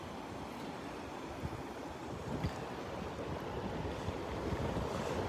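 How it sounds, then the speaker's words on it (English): Wind blows across a Gulf beach at the north end of Delnor-Wiggins Pass State Park as a steady broadband rush, with mic buffeting and the wash of surf mixed in. It grows slightly stronger toward the end. "Rats, here comes the wind."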